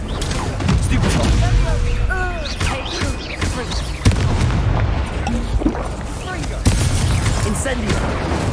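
Spells such as Confringo and Stupefy are cast in the Hogwarts Legacy video game, producing repeated booming blasts and crackling impacts mixed with battle noise, while a voice talks throughout.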